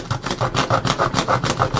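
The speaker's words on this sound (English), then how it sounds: "So this is kind of a small piece to be sawing into, but it works pretty well." A Ganzo G302-B multi-tool saw cuts into a small piece of wood: steady, rapid back-and-forth rasping strokes in an even rhythm, close and fairly loud, with no talking.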